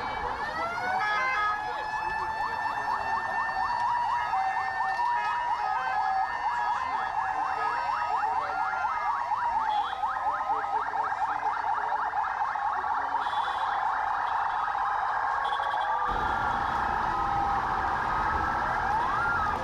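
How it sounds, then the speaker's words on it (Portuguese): Several new Ministry of Health ambulances in Timor-Leste sound their sirens together, loud overlapping wailing and yelping tones that hold steady for the whole stretch, with faint crowd voices underneath. "Careta ambulância nebe prepara o Ministério da Saúde né, lá os lore atendere ba visita ao Papa no Timor-Leste."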